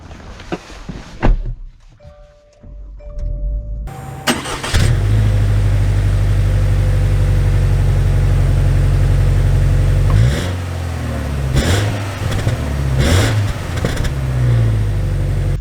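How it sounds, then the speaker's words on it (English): A 2023 Subaru Outback Onyx Edition: a door thunks and clicks, the engine starts, then a steady loud idle hum and brief rising revs as the car gets under way, with no talk. "let's see how the new Outback drives."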